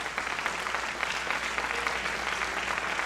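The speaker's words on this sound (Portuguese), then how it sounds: "Aplauda o nosso Deus." Church congregation applauding together during an Easter sermon, a steady dense wash of clapping that holds evenly from start to finish at moderate level, with no voices standing out.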